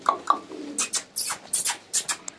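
Pigeons at a bird sale give short, soft calls mixed with rustling and brief flutter-like bursts, close by and uneven in rhythm.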